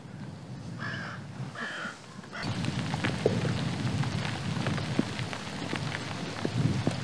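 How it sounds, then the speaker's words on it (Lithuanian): Rain falls steadily over a river on a fishing outing, a dense, even hiss that swells in after a quieter opening with a couple of brief tones, and scattered drops patter close by. "Va, pareina lietaus."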